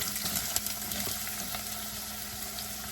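Onions fry in hot oil infused with spices, a dense continuous sizzle with crackles and small pops, close and steady, with no talking.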